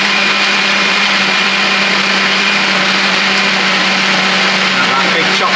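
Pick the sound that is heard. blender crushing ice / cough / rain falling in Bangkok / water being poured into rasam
blender crushing ice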